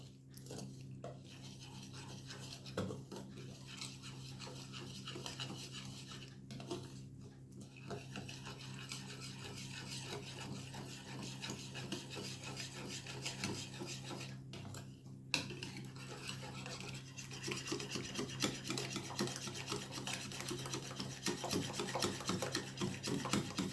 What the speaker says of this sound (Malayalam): നന്നായി ഇളക്കി യോജിപ്പിക്കുക